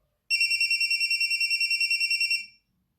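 A telephone rings loudly with a bright electronic warble that pulses quickly and evenly for about two seconds, then fades out, alone against silence.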